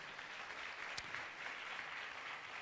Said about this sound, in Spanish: ¿Cuántos le dan un aplauso al Señor Jesús?